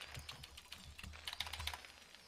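Rapid keyboard clicking from a player working a computer keyboard during a StarCraft match, a steady close run of light taps with a few brighter clusters of keystrokes.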